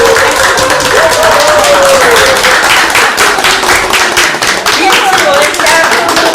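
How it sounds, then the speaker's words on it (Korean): A studio panel claps cheerfully together, a dense and lively burst of applause that stays loud and steady throughout. "패널분들의 유쾌한 박수 소리와 함께 마치겠습니다"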